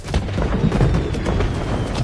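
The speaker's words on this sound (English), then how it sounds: "The fireworks! They're lit!" Fireworks going off in the Spider-Man 2 video game, a dense run of deep booms and bursts rumbling continuously and loudly throughout with no talking.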